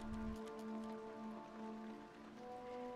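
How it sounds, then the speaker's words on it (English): Rain falls steadily in the horror game Penumbra: Necrologue, a soft even patter under a constant tonal hum, faint and continuous throughout. "I hear rain?"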